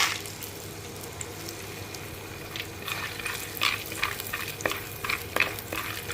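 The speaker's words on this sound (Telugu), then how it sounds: "ఆవాలు, జీలకర్ర వేస్తున్నానండి" Mustard seeds and cumin crackling in hot oil for semiya upma, a faint sizzle with scattered sharp pops that grow busier after a few seconds, no talk.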